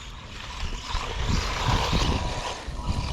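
WLtoys RC car driving and drifting around a corner, a fairly faint whirring motor with tire noise rising and falling over a few seconds, heard from a short distance.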